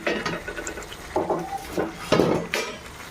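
Vegetables tipped into browned spices in a pan for vegetarian khichuri, with a scattered run of metal spoon scrapes and clinks against the pot, close and moderately loud.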